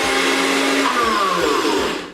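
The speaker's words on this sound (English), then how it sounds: "we probably have to blend about like 4 to 5 times with these type of fruits like mango, pineapple" A blender grinds mango, pineapple and coconut cubes into a thick smoothie bowl, a loud steady motor whine with its pitch shifting as the thick fruit churns, running continuously without a break.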